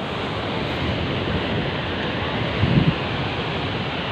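Broad, continuous roar of large ocean waves breaking on a beach, with wind noise over the microphone, a slightly stronger wash swelling near the end, no speech.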